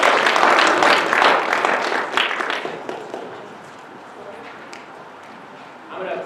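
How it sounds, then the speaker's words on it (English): An audience applauds in a classroom setting, dense clapping loud at first and tapering off over several seconds into a quieter murmur, with a brief swell of noise near the end. "Let's give a round of applause."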